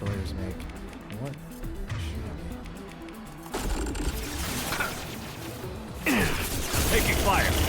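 Enemy destroyers in the video game Mass Effect 2 make grinding, mechanical sounds with sudden crashing bursts and rising electronic sweeps, growing louder toward the end amid background game noise.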